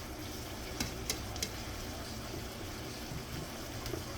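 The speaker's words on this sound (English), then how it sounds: "I'm gonna just let this simmer for a little bit until it soaks up all that juice" Taco meat for a seven layer dip simmering in a pan, a soft continuous sizzle and bubbling with a few faint clicks, quiet and close.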